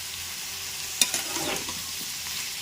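Cauliflower curry with tomato sizzles steadily in a pan while a spoon stirs it, giving a soft hiss throughout and a couple of sharper scraping clicks near the middle, with no talking.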